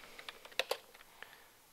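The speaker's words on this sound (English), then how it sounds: "Type in the species name again." A plant species name being typed on a computer keyboard: a quick, quiet run of about a dozen close key clicks with a couple of sharper presses, then a brief pause and one last tap.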